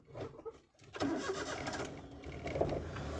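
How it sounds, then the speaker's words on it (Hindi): A car engine cranks and catches during a driving lesson on a single-lane road, starting after a brief pause and settling into a steady close-up rumble. "वापस इंजन ऑन करो,"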